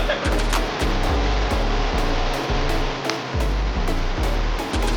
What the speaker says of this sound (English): now that you have the broth simmering